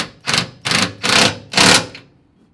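Nuts on a door bracket of a Polaris Ranger 570 SP are run up tight in four loud, close, evenly spaced bursts of rattling mechanical buzzing, each about a third of a second, followed by quiet.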